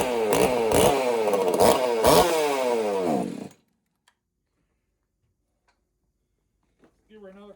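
A racing-class 50cc chainsaw starts with the compression release engaged, revving loud and close with rapid rising tones for about three seconds before cutting out. A short burst of sound follows near the end.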